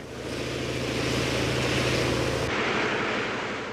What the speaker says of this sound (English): the noise made by the machines used to create the wind and waves